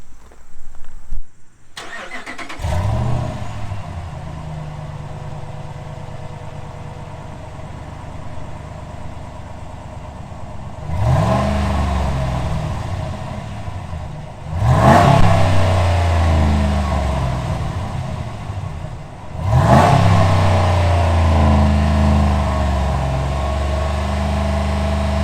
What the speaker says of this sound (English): let's do a sound check of what the truck sounds like before we install the Flowmaster Outlaw